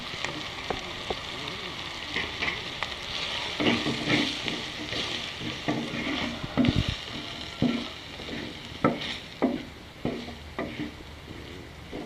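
Kuzhambu curry powder sautés in oil for a fish curry, with a soft steady sizzle broken by intermittent scraping stir strokes against the pan.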